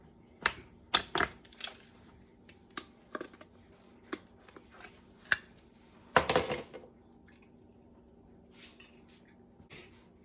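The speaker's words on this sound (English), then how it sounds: "They're out of the chopped up olives at the store, so I'm going to have to chop them up myself" A knife chops black olives on a cutting board in irregular, crisp taps, a few quick clusters and scattered single strikes, close and clear with quiet pauses and no speech.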